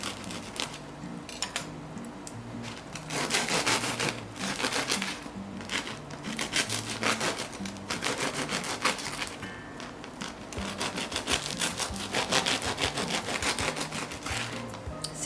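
A knife saws through a crispy cheesy bread loaf cut on the bias, giving repeated crunchy scraping strokes in uneven bursts, close and fairly quiet with no talking.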